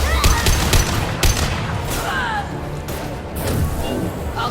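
Gunfire rattles through a firefight in the Mass Effect 2 video game, with rapid overlapping bursts and sharp shots mixed with explosions, weapon effects and a shouting voice.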